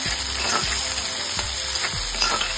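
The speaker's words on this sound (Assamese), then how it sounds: "এতিয়া এইখিনি ভালকৈ ভাজি লওঁ" Onion, ginger, garlic and three dried red chillies fry in hot oil, giving a steady close sizzle with occasional scraping stirs throughout.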